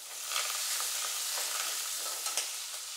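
Cut garlic with dried and green chillies fry in oil, a soft steady sizzle with light stirring scrapes and a few small pops, fairly quiet.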